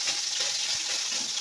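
Fish sizzles steadily in hot oil for a sour fish curry, a soft continuous crackle and hiss heard close up with no talking over it.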